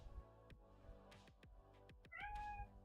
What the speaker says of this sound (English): the stream can hear her meow